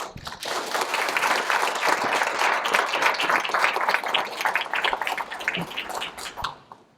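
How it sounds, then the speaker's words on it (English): At a Scouting awards gathering, the audience applauds Silver Beaver and Silver Fawn holders standing up, a sustained burst of many hands clapping that swells quickly, holds for several seconds, then tapers off at the end. "let's give them a round of applause"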